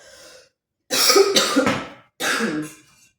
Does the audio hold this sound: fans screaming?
no